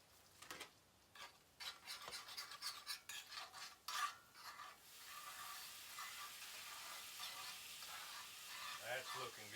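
Venison backstrap frying in garlic butter in a pan: a few clinks and scrapes of a utensil stirring at first, then a steady, close, bright sizzling hiss.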